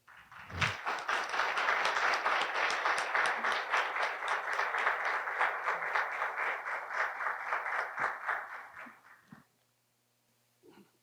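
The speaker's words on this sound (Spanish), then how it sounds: "Un aplauso." Sustained audience applause for a lecture speaker at a history talk in Cozumel rises quickly, holds as dense clapping for about eight seconds, then fades out, leaving a short stretch of near silence.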